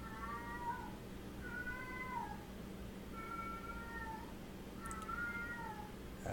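Abraham the cat lets out four long, drawn-out yowling meows at a steady pace, heard at moderate distance over a constant low rumble of background noise.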